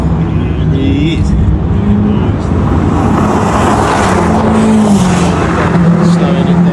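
An Aston Martin Vantage BTCC race car slows as it comes into the pits, its engine a steady loud drone with shifting pitch and engine notes, backed by constant circuit noise.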